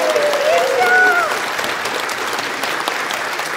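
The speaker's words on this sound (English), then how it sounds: "Can we get a round of applause for our choir and our choir director, Pastor Keisha?" A church congregation applauds the choir and its director during a Sunday service, with steady, dense clapping filling the room for a few seconds and a brief whistle-like tone rising above it early on.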